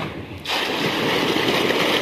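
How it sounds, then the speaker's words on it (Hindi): Water from a pump gushes into a household tank, starting abruptly as a steady, loud rushing splash that continues without pause. "जी पानी आ गया"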